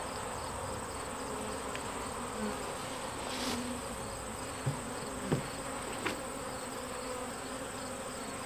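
Honey bees hum steadily around an opened hive with brood frames, a faint, even buzzing that carries on alone, broken by a few soft knocks.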